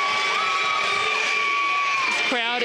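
A crowd cheers and shouts at a 2019 Canada West men's volleyball championship match, a loud, sustained roar of voices with whoops that swells near the end, likely with a commentator's voice underneath.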